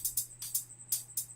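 Crisp electronic hi-hats play a quick syncopated pattern, short closed ticks mixed with longer sizzling open hits, clear and upfront over a faint low hum.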